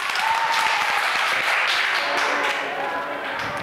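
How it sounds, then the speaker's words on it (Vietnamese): Primary school classmates clap together for a pupil in a STEM lesson, a sustained burst of steady applause filling the room, with faint voices mixed in. "cả lớp vỗ tay khen bạn Nhật Nam nào"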